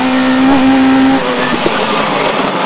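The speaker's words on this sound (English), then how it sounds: "3 left in over bridge 200 to a chicane" Rally car charging through a chicane on a tarmac stage of the Carlow Stages Rally, engine note held high then dropping as tires squeal briefly, loud and close from onboard.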